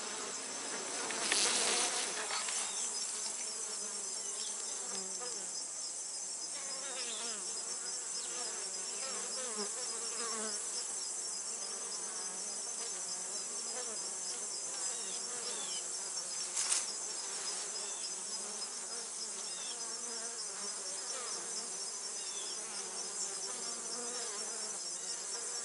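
Steady, dense buzzing of many honey bees close by at a colony, a continuous drone with occasional louder passes near the microphone.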